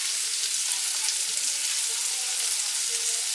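Onions saute in a pan alongside salmon, giving a steady, close, even hiss of frying that holds at a constant level throughout with no talk over it.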